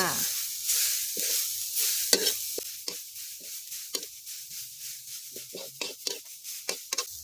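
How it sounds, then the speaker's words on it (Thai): Grated young coconut dry-roasting over low heat in a pan, a soft hiss under repeated scraping strokes of a spatula in an uneven rhythm, close and alone. "วิธีการผัดไส้ค่ะตั้งกระทะใส่มะพร้าวขูดลงไปนะคะ"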